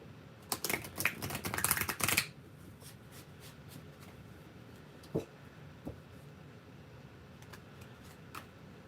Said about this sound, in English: But even being a large deck, it does shuffle nicely.